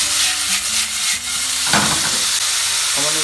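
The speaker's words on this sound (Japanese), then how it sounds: "豚バラ肉を入れていきます。" Pork belly sizzles and crackles steadily in a hot pan, a close, continuous fry with occasional scraping stirs and a brief burst of spattering midway.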